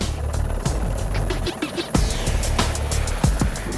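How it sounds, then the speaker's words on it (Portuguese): Steady rotor drone of a Civil Police helicopter flying over northeastern Pará, with rhythmic thumping and broadband engine noise throughout, fairly loud and continuous. "O helicóptero da Polícia Civil faz um sobrevoo na região nordeste do Pará"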